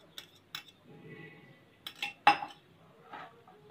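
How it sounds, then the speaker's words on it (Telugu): Raita being spooned into a bowl, with a few light clinks of a spoon against dishes and soft scraping between them, quiet and close with no talk. "ఇది మనం ఒక బౌల్లోకి ట్రాన్స్ఫర్ చేసుకుందాము"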